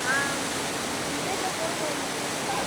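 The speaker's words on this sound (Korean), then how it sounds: "폭포에 도착했습니다." A waterfall in Kyrgyzstan roars as a steady, dense rush of falling water, loud and close, filling the whole stretch without a break.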